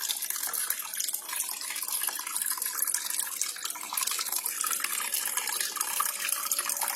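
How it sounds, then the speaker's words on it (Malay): Small aquaponics motor pumping water from an aquarium into a bean sprout container, a steady trickling and splashing flow of water heard close and continuous throughout. "Motor ini pula menyedot air masuk ke dalam bekas berisi"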